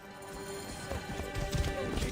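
Horse hooves clatter during a galloping race in Assassin's Creed Origins, rapid clip-clop beats under a dense game soundscape with wind and rumble.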